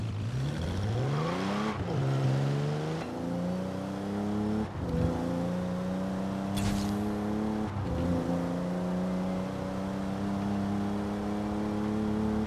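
A Japanese supercar engine in Forza Horizon 4, fitted with a modified camshaft, revs and climbs through several gear shifts while driving, a steady rising drone with brief dips between gears and no speech.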